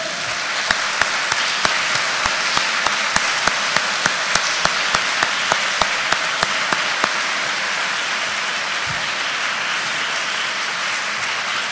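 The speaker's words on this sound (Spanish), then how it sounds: "¿Puedes darle un fuerte aplauso al Señor?" Steady applause from a church congregation during a sermon, a dense wash of clapping with a few sharper individual claps standing out, continuing without voices.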